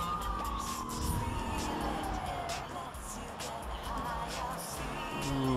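Police sirens in the video game GTA 3, wailing steadily through a continuous bed of in-game traffic and engine noise, with a player talking over the top.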